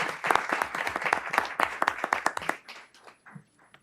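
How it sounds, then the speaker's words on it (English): An audience at a school board meeting gives a round of applause, loud dense clapping that thins out and fades over the last second. "So we need to give him a great round of applause."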